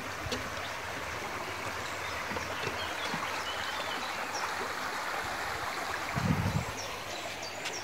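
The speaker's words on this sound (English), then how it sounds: "sure you can hear the water in the background." The River Hook flowing at Kingcombe in early June, a steady broad wash of moving water filling the whole scene, with faint bird calls and a brief low thump near the end.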